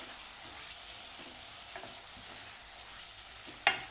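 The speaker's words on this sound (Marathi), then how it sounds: "ते टोमॅटो घालून हे परत आपण परतून घेणार आहोत." Two large chopped tomatoes sauté in a pan with a soft, steady sizzle and faint stirring. A single sharp metallic tap lands near the end.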